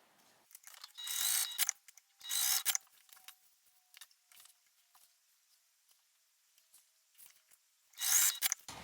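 A sewing machine bastes two fabric pieces for a makeup bag, running in short bursts of quick mechanical stitching, separated by quiet pauses and soft handling clicks.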